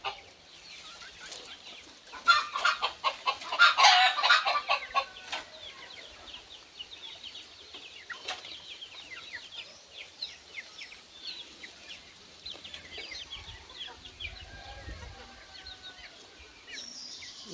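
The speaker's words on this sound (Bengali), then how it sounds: "এই জন্য মুরগিগুলা পুরা ছেড়ে দিছি। এগুলা কিন্তু ঘাস পাতা লতা খাইতেছে এখন।" Free-range chickens roam loose on a farm, foraging on grass and leaves under a plastic shelter; clucking and soft calls scatter throughout, busiest near the start, with faint outdoor ambience.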